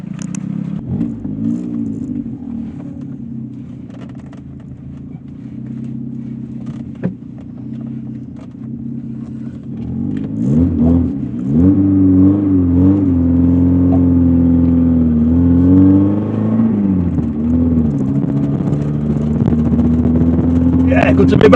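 An old Lotus Excel on the road gives a low, steady engine drone from inside the cabin, then swells louder and rougher partway through as it accelerates.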